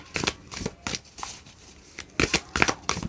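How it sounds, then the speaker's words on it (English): A circular tarot card deck is shuffled by hand in several short bursts of riffling and flicking, close up and separated by brief pauses. "This deck is extremely hard to shuffle."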